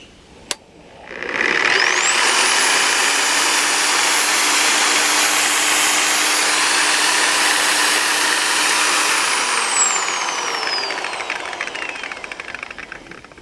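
A trigger click, then a 7-inch Simoniz electric polisher-sander spins up into a loud, steady high whine, runs for several seconds and winds down as the motor stops.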